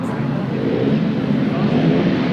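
Grasstrack racing motorcycles revving together at the start line, a dense, steady roar of engines at a race meeting with an announcer's voice faintly mixed in.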